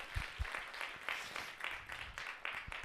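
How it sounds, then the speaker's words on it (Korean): A church congregation applauds during a Korean youth worship service, a steady wash of clapping with a few sharper claps standing out, moderately loud and continuous throughout. "우리 하나님께 영광의 박수 올렸으면 좋겠습니다"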